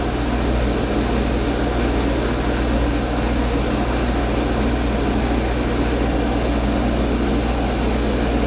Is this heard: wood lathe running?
yes